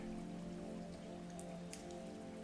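Steady rain pattering on a surface, a dense continuous hiss with scattered closer drips, constant and even throughout with no voices.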